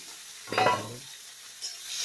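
Onion going into a pan to fry for a meat masala, a sudden loud burst of sizzling and stirring that fades within half a second, leaving near-quiet with a faint later hiss.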